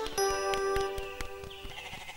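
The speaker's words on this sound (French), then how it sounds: "Tous les jours, Heidi et Pierre emmenaient les chèvres paître." Goats bleat in a high, wavering cry heard close and clear, with a few sharp percussive taps and a second fainter bleat toward the end, no talking.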